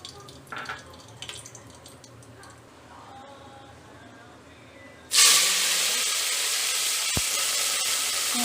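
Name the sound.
cinnamon and cloves sizzling in hot oil in pressure cooker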